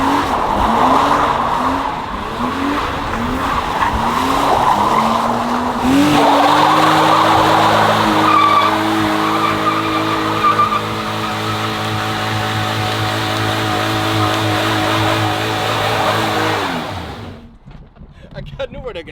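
A BMW E36 fitted with a limited-slip differential drifting, its engine revving in rising and falling pulls before the tires break into a long, loud, sustained squeal that cuts off abruptly near the end.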